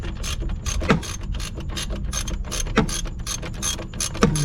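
A ratchet wrench clicks rapidly and steadily at close range as it loosens a bolt on a Mitsubishi EVO X engine during engine removal, its pawl ticking in quick repeated strokes with brief pauses, and no talking.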